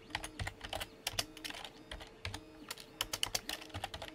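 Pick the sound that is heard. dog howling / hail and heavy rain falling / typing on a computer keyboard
typing on a computer keyboard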